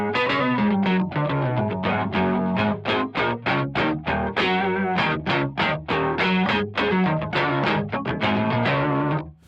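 Electric guitar played through a BOSS MD-500 modulation pedal with both sides engaged, loud shimmering chorus-like tones over a run of picked notes and chords, continuous and heavily effected, with no talk.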